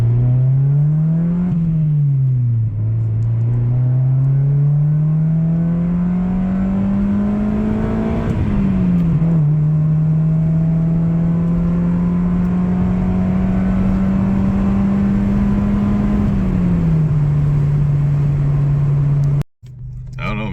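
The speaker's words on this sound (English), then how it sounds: "This car sounds so good for a D-Series. I love this exhaust." A Honda Del Sol with a D-Series engine drives along with a steady, droning exhaust note. The pitch rises and falls through gear changes, and the engine sound stays loud and continuous throughout.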